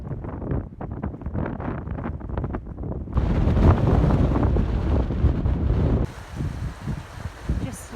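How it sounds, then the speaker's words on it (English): Wind buffets the microphone in loud, rumbling gusts, shifting in intensity throughout with a roaring low-end wash, heard during an autumn hill hike on the Rob Roy Way in Scotland. "It's been pretty windy and quite tough."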